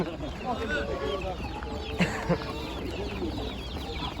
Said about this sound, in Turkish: Abim tavukları yemliyor.